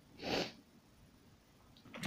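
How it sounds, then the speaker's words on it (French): A woman's single sneeze, a short breathy burst that is fairly close but soft, followed by quiet room tone and a faint sniff or breath at the end. "j'ai envie d'éternuer"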